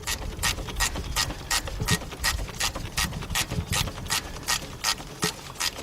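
Hand ratchet with a 12mm deep socket clicking steadily as it turns a bolt on a 2000 Subaru Impreza Outback 2.2, a regular series of sharp close-up clicks over faint background rumble, with no talk.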